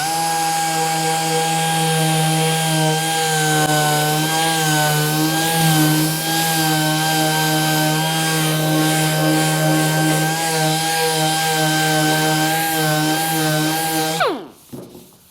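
A dual action sander smoothing a dented car body panel gives a loud, steady motor whine with a constant buzzing hum, then winds down sharply near the end.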